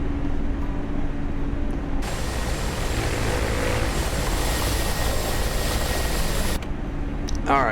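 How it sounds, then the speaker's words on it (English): A Mi-24P Hind attack helicopter in a video game runs with a loud, steady roar of engine and rotor whine that swells partway through and holds constant, a voice talking faintly underneath. "This is an Mi-24P Hind helicopter."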